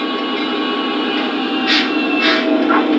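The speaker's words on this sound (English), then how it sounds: "the bell comes on and stays on until we're at a complete stop" An SD70ACe locomotive, a Legacy model train, rings its bell steadily as it slows to a stop, a sustained metallic tone over a constant hum, with a few brief hissing bursts near the end.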